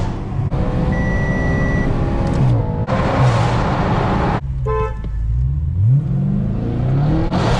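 An Audi RS5 with a 4.2L V8 drives at night, the engine droning loudly and continuously from inside the car, with revs rising and falling through gear changes and brief beeping tones over the rumble.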